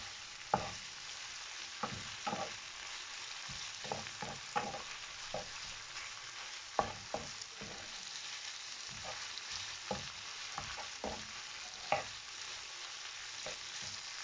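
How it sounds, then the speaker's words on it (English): Ackee and saltfish frying in a pan while a spoon stirs it, a steady close sizzle broken by frequent sharp scrapes and clicks of the utensil against the pan, with no talking. "you're gonna give it a stir"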